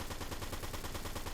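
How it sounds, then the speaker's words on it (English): Submachine gun fire in Fortnite, a rapid, evenly spaced stream of sharp shots in a sustained burst, loud and close with no talking. "Oh, so I can just shoot the submachine gun here and not worry about it."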